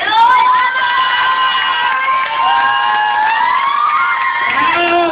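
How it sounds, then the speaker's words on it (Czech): Long stretch of audience cheering and whooping at a dance competition awards ceremony, loud and sustained with high voices carrying across the crowd. "dlouhý potlesk."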